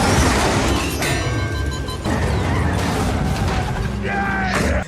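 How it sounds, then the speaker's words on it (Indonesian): A car explodes during a street race in a movie scene, a loud boom with crashing debris and rumbling low-end that fills the whole moment, mixed with dramatic sound effects. "Mobil sahabat Dom meledak dan ia tidak terselamatkan."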